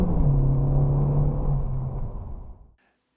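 A used car being driven, its engine giving a steady low rumble close by that slowly fades and then cuts off abruptly near the end.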